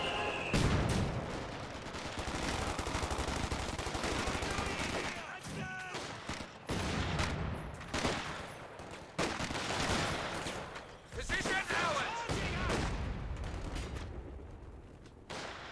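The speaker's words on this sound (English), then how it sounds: "Sounds like the mortar's firing away." A mortar firing in a Company of Heroes 2 battle amid steady gunfire, repeated booming thumps and crackling bursts spread across the whole stretch at fairly even loudness.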